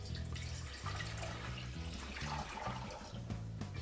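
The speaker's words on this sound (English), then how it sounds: "So to that I'm just going to add in a litre of water." Water pouring into a pot on a stove, a continuous splashing and gurgling stream, faint but steady throughout with no talking.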